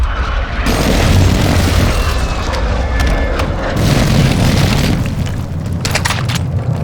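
A called-in airstrike in the video game Warzone 2 DMZ sends out loud, sustained booming explosions, a continuous heavy rumble with rolling blasts layered over one another throughout.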